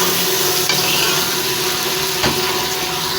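Tomatoes, spices and meat fry together in a pot for turnip gosht, a dense close sizzle with a couple of sharp stirring knocks of the spoon, no voices.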